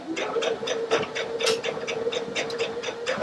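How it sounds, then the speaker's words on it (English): A Baby Lock Allegro sewing machine sews an overcast stitch with a rapid, even mechanical clatter and steady motor hum, close and moderately loud with no talking. "And now I can start sewing that overcast."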